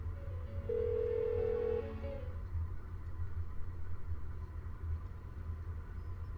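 A telephone ringing in the video game Persona 4 Golden: one steady electronic ring tone lasting about a second, then silence over a low, constant background hum, with no voices.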